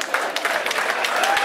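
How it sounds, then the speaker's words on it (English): A crowd at an MMA cage event applauds both fighters, dense clapping mixed with cheering and a loud announcer-style voice carrying over the noise. "let's get a big round of applause for both of the fighters in this cage"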